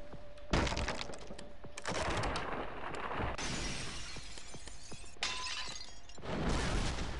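Bricks smash apart in LittleBigPlanet 3 in a rapid series of loud crashing, shattering bursts with crackling debris, each break following closely on the last.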